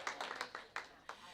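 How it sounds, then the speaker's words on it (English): A few people clap for an Iowa History Teacher of the Year during a school district meeting, a handful of separate, faint claps in a quiet room. "I think that earns a nice applause too"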